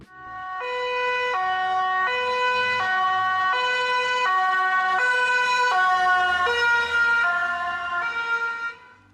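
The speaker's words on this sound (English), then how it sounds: "a police car or ambulance driving by with its siren on" An ambulance siren wails loudly and steadily in a repeating two-tone pattern as the vehicle drives past, its pitch shifting slightly downward over the pass with faint road noise beneath.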